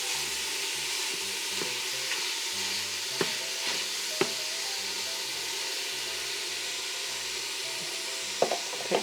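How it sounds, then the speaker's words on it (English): Ground meat browns in an Instant Pot with a steady low sizzle. A utensil breaks it up, making soft scraping, stirring and tapping sounds, with a few sharp knocks against the pot. "I'm just going to break this meat up with this little"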